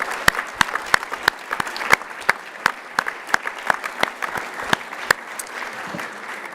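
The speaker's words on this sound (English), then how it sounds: "Let's give them all a round of applause." Moderate applause at an award dinner, a smaller crowd producing distinct individual claps, with sharp close hand claps standing out over the steady patter for several seconds.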